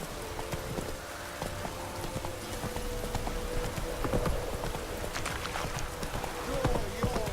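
Roach the horse in The Witcher 3 clip-clops along at a steady gait, hoofbeats close and continuous under ambient noise, with a voice speaking over them.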